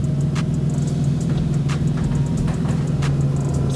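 Turbocharged Infiniti G37 engine running at a steady idle, a continuous low rumble with faint ticking and hiss on top, close by and alone without talk.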